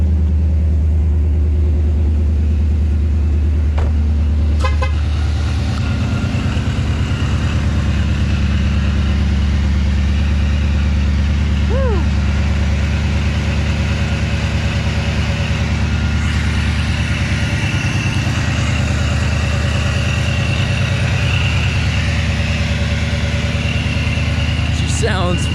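Supercharged car engine idling right after its first start following a cheap supercharger install, a loud, steady, rough rumble that continues without pause, close up, with no talk over it.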